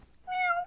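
A single clear, close meow from a cat on the Halloween Horrors sound-effects record, short and rising then falling, with nothing else around it.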